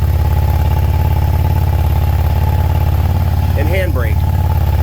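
A 2009 Yamaha V Star 650 Classic cruiser motorcycle idles steadily with the choke on, a loud continuous low rumble throughout, while a person talks over it.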